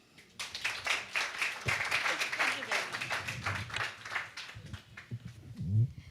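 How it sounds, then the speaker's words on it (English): Audience applause at a tourism conference, a burst of close, fairly loud clapping that thins out over several seconds while voices and talk rise up beneath and after it. "give a big applause for them"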